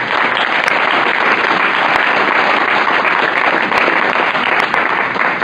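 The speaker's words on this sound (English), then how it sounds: "let's give a round of applause to all these candidates" Steady, full applause from an audience at a school board candidates forum, dense clapping sustained evenly throughout without any voices breaking through.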